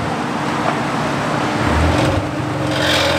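Car engine and road noise from inside a moving car, with a low buzzing rattle from a cracked performance exhaust running beneath the steady drone.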